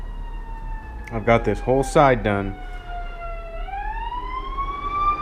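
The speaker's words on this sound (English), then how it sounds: "Sorry about the sirens, guys." A siren wails in the background while someone speaks briefly nearby; the tone holds, then sweeps upward as it continues.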